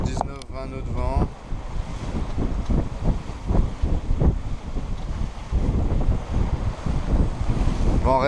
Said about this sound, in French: on a toujours 19-20 nœuds de vent.